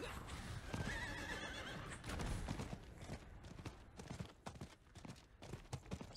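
Horse in Diablo IV neighing loudly near the start, then hooves clip-clopping in an uneven walking rhythm, close and clear, with no speech over it.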